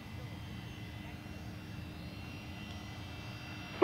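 A jet airliner at Perth Airport gives off a steady, distant low rumble that holds evenly throughout, faint and unbroken, with a brief sharp blip right at the end.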